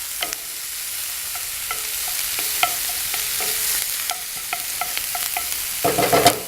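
Garlic frying in a pan at a campsite, a steady sizzle with repeated scraping stirs of a utensil against the pan, close and continuous, with a busier clatter at the end.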